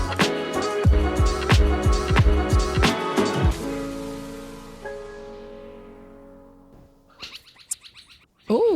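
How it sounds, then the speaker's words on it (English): Birds chirp outdoors on a rural farm: a few brief, bright calls near the end, after a run of struck, ringing musical tones fades away. "I can hear the birds in the background."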